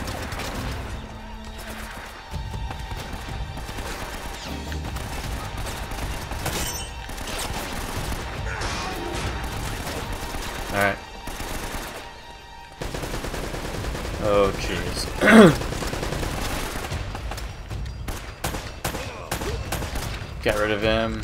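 A mounted gun fires in Uncharted: Drake's Fortune amid a chaotic battle, with bursts of rapid gunfire, impacts and loud cracks scattered across the stretch, under game music, shouting and talk.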